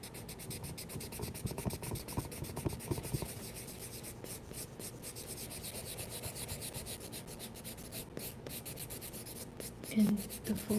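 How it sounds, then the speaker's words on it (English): A large paper blending stick rubbing over paper while blending a sketch of a bench, with soft, repetitive close-up scratchy strokes in a continuous rhythm and brief pauses between passes. "This is a paper stick, a large paper stick that we are using"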